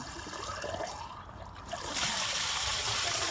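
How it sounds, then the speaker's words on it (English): Water drains from a Ford Model T engine block, trickling and splashing steadily, then swelling into a louder, fuller gush of draining liquid close by, carrying out rust particles. "once it's full, I'll take my hand off and let it drain out any rubbish"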